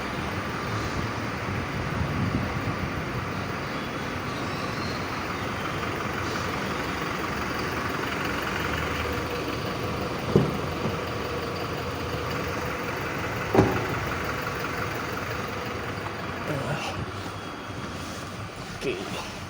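A Toyota Hilux G 4x4 manual pickup with a 2GD diesel engine idles in a steady, rumbling drone, with someone talking over it and a couple of faint clicks.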